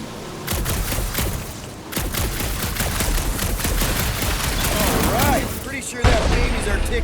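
Gunfire from a sci-fi shooter game, aimed at a gunked-up reactor aboard a ship, rings out as rapid bursts of shots over a continuous loud mechanical background, with brief game chatter mixed in.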